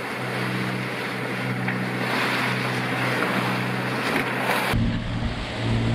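A sailboat is sailing at sea on the passage from Dieppe to Le Havre, with loud, constant rushing wind and breaking waves buffeting the microphone, then a sudden shift to a deeper roar near the end.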